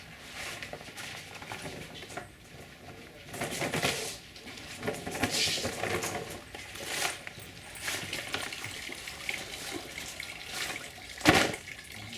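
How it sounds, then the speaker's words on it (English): A slow drip of liquid with soft, irregular drops and light patters, close and quiet over a faint watery background, with no talking. "Getting that slow drip on the 120 is never a bad sign."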